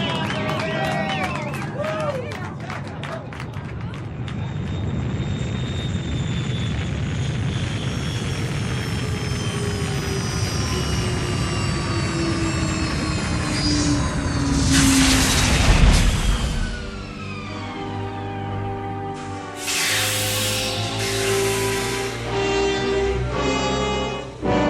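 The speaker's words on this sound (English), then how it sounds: "Those are rocket engines." Rocket engines of a spaceship in a radio drama, a loud sustained roar with rising and falling whines that swells to a burst midway, then settles into a throbbing drone.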